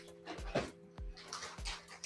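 Small dog panting close by in repeated short breathy bursts with low thumps, in a quiet indoor room.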